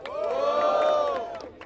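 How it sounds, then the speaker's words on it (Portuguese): A crowd cheers and shouts together at a rap battle in Barueri, São Paulo, a short, loud, sustained collective roar that rises and falls away within about a second and a half. "Muito barulho pras rimas de Jafari."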